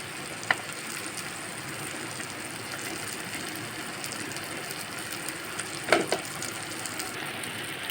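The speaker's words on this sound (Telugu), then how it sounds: "ఈ వేగిన తాలింపులో మనం కట్ చేసుకున్న బెండకాయ ముక్కలు వేసుకోవాలి" Cut okra pieces are tipped into hot tempering with tomato in a pan. A soft, continuous sizzle of frying runs throughout, broken by a sharp clink early on and a louder scrape-and-clatter near the end.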